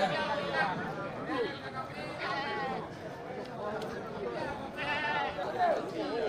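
Goats and sheep bleat repeatedly at a quiet livestock market, their wavering cries rising over a constant murmur of people chatting nearby.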